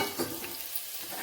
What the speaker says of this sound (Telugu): గిన్నెలో నూనె వేసి నూనె వేడెక్కాక పచ్చిగా పచ్చిమిర్చి వేసి వేయించాలి